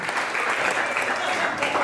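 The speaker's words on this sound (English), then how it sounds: "And he deserves a hand clap." Crowd clapping at a team awards banquet honoring a player, a dense, steady burst of many hands applauding throughout, with no voices standing out.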